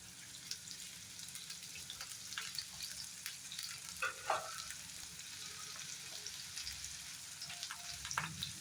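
Ginger and green chilli fry in a pan for kabuli chana masala, making a soft, low, continuous sizzle with light spatters and occasional stirring clicks.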